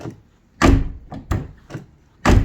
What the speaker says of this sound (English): I fixed this door handle.